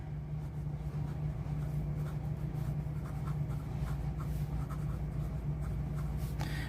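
Steady scratchy scribbling of a blue Admach M800 fountain pen with a medium nib and Polar Blue ink, continuous and close over a low constant background hum, with no voices.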